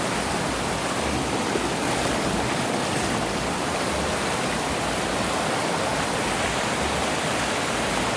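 Water flows steadily at a campground, a dense, even rush like a stream or small cascade, loud and continuous throughout with no voices.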